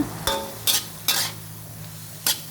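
Kachon flowers and shoots stir-fried with pork and egg in a pan, four separate scraping strokes of a spatula over a low, steady sizzle, close and clear with no speech.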